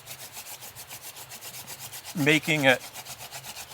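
A wooden hand drill is spun between the palms against a fireboard to make friction fire, giving a steady run of quick, rhythmic rubbing strokes, with a brief spoken phrase partway through.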